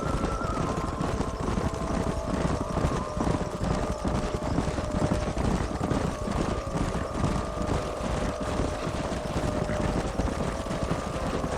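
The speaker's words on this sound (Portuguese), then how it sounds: "Cavalga até a manada." Horses gallop toward a herd in the Red Dead Redemption video game, a dense, steady rhythm of hoofbeats running continuously and loudly under wind-like noise, with no talk.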